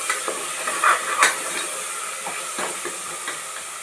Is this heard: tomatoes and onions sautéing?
yes